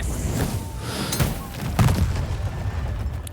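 A fire bolt ignites gunpowder in the role-playing video game Baldur's Gate 3, producing a couple of sharp booming blasts followed by a low rumble.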